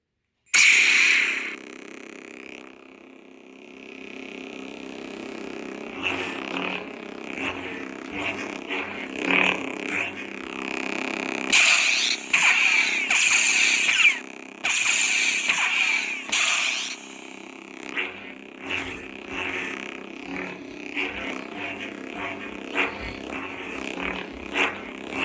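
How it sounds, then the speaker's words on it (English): A Sabertrio Reaver lightsaber ignites with a sharp crackling burst, then settles into a deep, throaty electric hum broken by swooshing clashes and crackles as it moves, loud and close, with no one speaking. "Isn't that a wonderful sound? So bassy and throaty and evil. Listen to the ignition."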